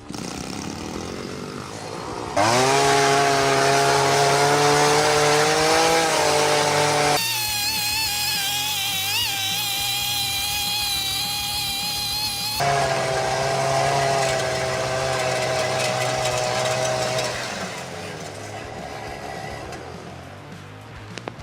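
Petrol brush cutter fitted with a cultivator attachment, weeding between potato rows with blades spaced 28 cm apart: a loud, close two-stroke engine revs and drones continuously, its pitch shifting between higher and lower throttle.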